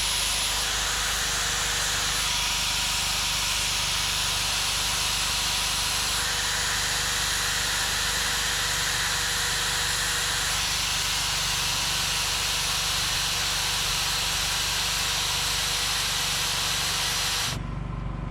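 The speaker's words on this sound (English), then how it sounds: "So here's a Makita finger sander." A steady, loud Makita electric finger sander sanding a wood carving whirs with a hissing, high-pitched buzz, running continuously before cutting off abruptly near the end.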